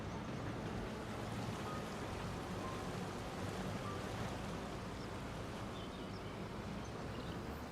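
Video game rain in Farming Simulator 25 on a grain farm: steady, dense hiss with a low rumbling undertone, constant throughout and fairly close, with no voices.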